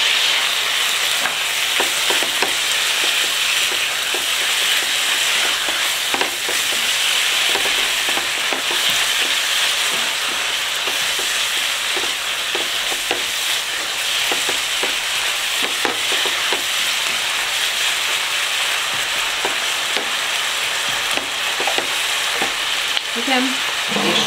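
Food frying in a little butter in a pan, a constant bright sizzle with a spoon or spatula scraping and stirring throughout, close and steady for the whole stretch.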